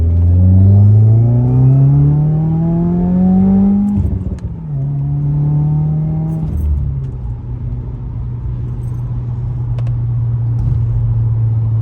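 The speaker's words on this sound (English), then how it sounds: "we're going to hit it here at 20 miles an hour in a roll, go to 60." A Subaru WRX with a COBB stage 1 tune accelerates from a rolling 20 mph to 60 mph, its engine droning loud and close as the pitch climbs. Two quick gear shifts follow, then it settles into a steady cruise hum.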